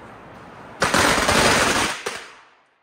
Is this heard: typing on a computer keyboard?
no